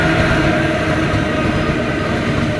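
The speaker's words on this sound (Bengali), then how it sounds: "তো আমাদেরও ট্রেন ছেড়ে দিয়েছে।" A passenger train pulls away in steady rain, its rolling rumble and rail noise loud and continuous from start to finish, with no voices.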